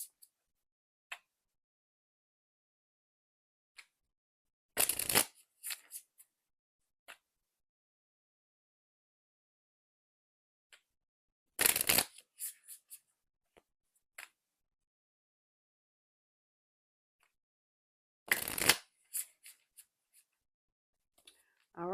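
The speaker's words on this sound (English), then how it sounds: "I'm gonna actually shuffle the 4 times again" A deck of tarot cards is shuffled in three separate brisk riffling bursts spaced several seconds apart, each followed by a few soft taps, with near silence in between.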